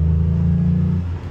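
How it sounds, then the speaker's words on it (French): Renault Clio V6 engine holding a loud, steady low drone with strong intake sound throughout, easing slightly near the end, with no voices. "T'as un son, le son de l'admi, il est surprésent."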